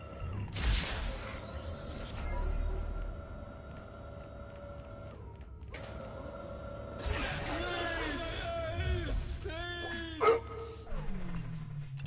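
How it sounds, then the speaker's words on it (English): Dog barks from the video game Remember Me, a sharp short yelp among growling creature noises and game sound effects, fairly loud over a busy soundtrack with a voice talking. "It sounded like one of them just barked at me too."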